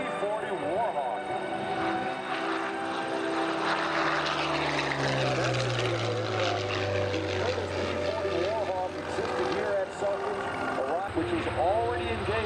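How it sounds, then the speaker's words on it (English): A P-40 Warhawk propeller fighter passes at an airshow, its engine drone steady and loud with a falling Doppler pitch as it flies by, while an announcer talks over it. "And here comes our P-40 Warhawk."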